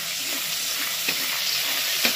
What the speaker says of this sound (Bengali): পাঁচফোড়নটা একটু ভাজা ভাজা হোক